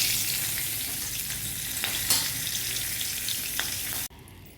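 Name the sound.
green chilies frying in oil with nigella seeds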